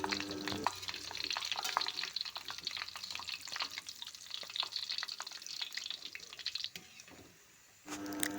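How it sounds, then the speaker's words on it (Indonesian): Glutinous rice flour keciput dough pieces sizzle and crackle in hot frying oil, with a dense, steady bubbling and sharp popping close by. The frying stops briefly near the end and then resumes. "Sekarang kita goreng yang bentuk panjang."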